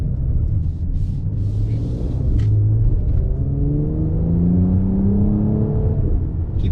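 A 2020 Mercedes-Benz C43 AMG in Sport Plus mode accelerates hard from inside the cabin, its engine rumble climbing steadily in pitch through a long pull, with a short pause for a gear change partway before rising again.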